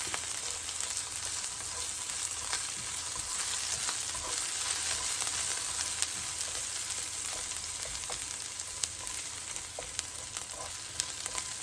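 Garlic frying in oil in a pan for Mumbai vada pav, a steady dense sizzle throughout with a few light stirring clicks, close and even, no speech.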